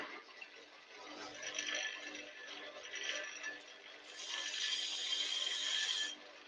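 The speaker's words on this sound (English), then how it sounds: "Then we're going to take our mini skew again. 1/4 inch skew, just to mark in the lines." Quarter-inch mini skew chisel marking lines into turned wood on a lathe, a quiet scraping hiss that comes in short bursts and grows stronger toward the end.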